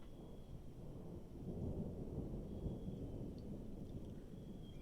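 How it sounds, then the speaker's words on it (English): Steady rumbling thunderstorm in the Three-Fourths Home video game, with low continuous rolling thunder and rain wash filling the background throughout, fairly even in loudness and no voices. "Sounds like a storm coming in."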